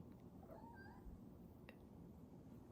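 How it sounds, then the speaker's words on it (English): A house cat meows a few times, soft and fairly close, against a low background hum with no talking. "Say hello to the kitty."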